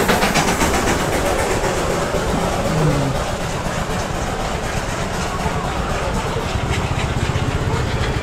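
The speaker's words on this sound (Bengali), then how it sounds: "এই হলো আমাদের বিখ্যাত টয় ট্রেন।" The Darjeeling toy train near Darjeeling station gives a steady, loud rumbling engine drone with a faint rhythmic clatter throughout, with no pauses and a little background voice.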